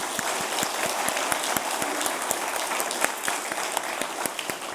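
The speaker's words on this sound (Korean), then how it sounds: "우리 다시 한번 박수해 주시기 바랍니다." A church congregation claps together during a Sunday worship service, steady mid-level applause with a few sharper individual claps punctuating the wash, continuing evenly for a few seconds.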